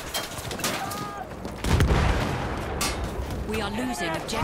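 Tank machine gun fire in a video game battle: rapid bursts of gunshots crackle and thump amid a busy, noisy mix with other battle sounds, loudest from about halfway through.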